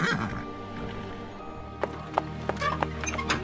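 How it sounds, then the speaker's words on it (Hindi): Hooves of a horse-drawn carriage clip-clopping, with a few sharp steps standing out over steady road rumble and a faint whinny, all fairly distant. "एंजेला दिल्ली में स्थित कैथोलिक हॉस्टल से घोड़ा गाड़ी में बैठकर काला कुआं गांव की तरफ रवाना हो गई थी"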